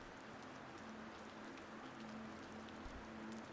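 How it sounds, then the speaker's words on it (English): Steady rain falls outside in a soft, unbroken hiss of drops, faint and constant throughout, with no voices. "the two of them sat together among the sleeping umbrellas while the rain fell outside."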